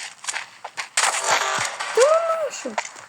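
Video game gunfire crackles in quick bursts of shots alongside rattling effects, with someone talking over the action.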